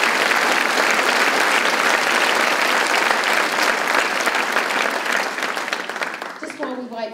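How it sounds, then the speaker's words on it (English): A school hall audience gives a choir sustained, loud applause, dense clapping that holds strong before thinning out near the end as a voice begins to speak. "Give them all a round of applause."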